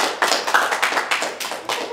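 A small group claps for Simon right after he eats snails, a short burst of close, uneven handclaps with sharp individual slaps and no voices.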